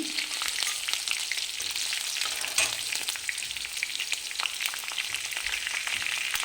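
Cinnamon, ginger, green chilli and onion frying in hot oil for mixed rava upma, a steady close sizzle with occasional stirring scrapes throughout and no talking.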